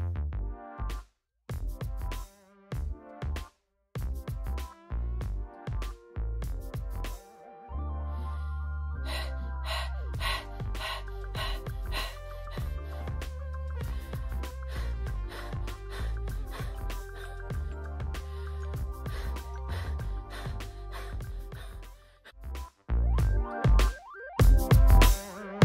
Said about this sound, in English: So just like you would pant after a long run, we're going to pant like that just now.